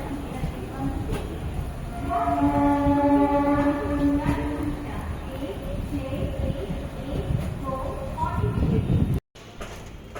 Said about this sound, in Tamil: அந்த பக்கத்து ட்ராக்கில் வரதும் பார்த்திங்கன்னா ஒரு மெமோ ட்ரெயின் தாங்க